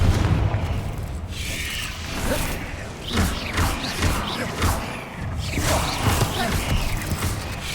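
Confringo and Bombarda spells blasting in the video game Hogwarts Legacy, a run of booming bursts and whooshes over a dense, constant game soundscape, loud throughout.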